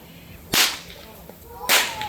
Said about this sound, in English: now that we've shown you just how loud our whips can be